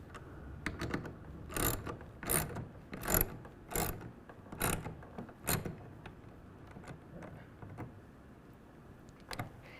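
Clamp on the tonneau cover rail of a 2023 Ford F-250 HD, fitted with a Gator EFX hard fold cover, is tightened with a ratcheting tool, giving bursts of close, sharp clicking strokes with short pauses between them.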